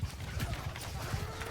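Horse archers' mounts in Mount & Blade II: Bannerlord's War Sails battle, a faint, fairly distant patter of hooves clip-clopping in an irregular rhythm beneath general battlefield noise.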